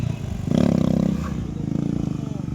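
A stunt motorcycle revs and rumbles close by at a gymkhana championship in Gurugram, Haryana, its engine note rising into a throaty roar and then settling into a pulsing idle, with a voice briefly over it.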